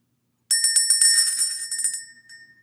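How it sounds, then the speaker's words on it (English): A small hand bell rings in a quick run of bright metallic strikes that blend into a shimmering tone, then taper off with a last faint tap after half a second of silence. "We're going to ring the bell."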